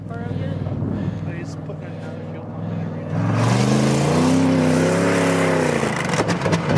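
A big car's engine revs and accelerates away, a low growl rising in pitch and loudness midway through, with people talking over it.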